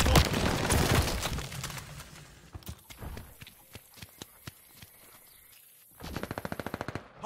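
Video game gunfire around a hardpoint in ranked multiplayer: sharp rapid bursts of automatic fire with spaced single shots, ending in a fast run of close cracks, over muffled background noise.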